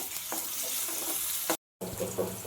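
Steady crackling sizzle of a tempering frying in hot oil for egg curry, loud and close, broken by a brief full silence before the spattering resumes.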